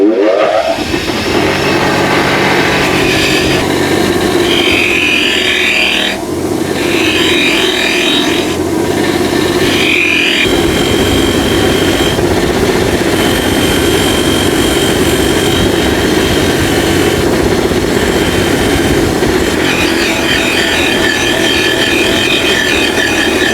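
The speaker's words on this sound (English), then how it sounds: "I'm going to take this over to the wire wheel." A spinning wire wheel scrubs rust and grime off an old tractor screwdriver, giving a loud, steady, hissing whine that runs the whole time with slight shifts in pitch as the tool is pressed and moved.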